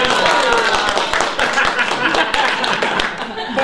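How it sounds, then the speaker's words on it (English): Applause from an audience at a talk, a short round of clapping filling the room steadily at close range, with voices mixed in underneath. "That's a little round of applause."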